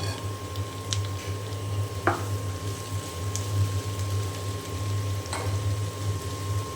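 Okra dropped into hot oil with chilli and onion in a pan, giving a steady close sizzle and bubbling hiss with a few small clinks over it.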